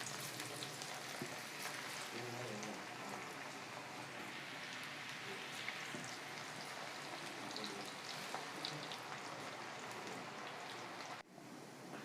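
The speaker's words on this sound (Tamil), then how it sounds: "இப்படி லோ ஃப்ளேம்லேயே வச்சு நம்ம நல்லா பொரிச்சோம்னா நல்லா மொறுன்னு சூப்பராக இருக்கும்" Onion pakoda frying in hot oil over a low flame, a steady close crackling sizzle that continues evenly throughout with no talking.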